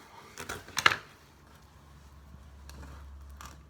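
Pruning shears snip through a rooted side branch of a succulent, giving a few quick, close clicks and crunches early on, followed by a faint low hum.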